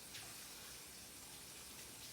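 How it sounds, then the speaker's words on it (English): Hot water runs from a tap to rinse out a small shot glass, a faint, steady hiss of flowing water with no voices. "So I'm going to just kind of rinse it out with the hot water"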